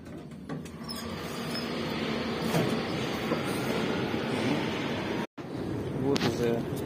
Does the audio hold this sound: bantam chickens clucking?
no